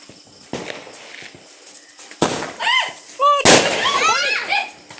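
Thunder King firecrackers being lit on the eve of Hari Raya, with sharp bursts and crackling pops near the mic, between which children's excited voices and whistling sparkler sounds rise.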